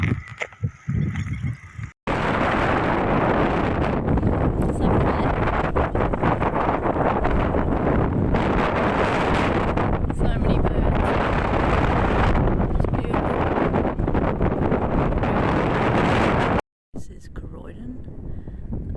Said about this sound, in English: unfortunately we've got a headwind, so it'll be a tough day